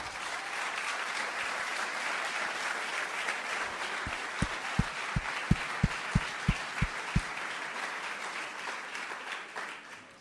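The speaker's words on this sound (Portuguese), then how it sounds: "Você pode aplaudir o Senhor?" A church congregation applauds steadily through the whole stretch, with a series of evenly spaced low thumps, about ten in a row, beating under the clapping midway.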